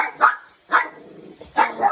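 A pet dog barks excitedly in a backyard garden, four sharp barks in two quick pairs, close and loud with nobody talking.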